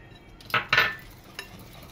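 A utensil clinks against a bowl while blueberry yogurt cake batter is mixed. Two quick, close scraping taps come first, then a softer third tap, all in quiet surroundings.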